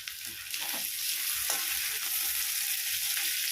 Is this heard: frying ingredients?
yes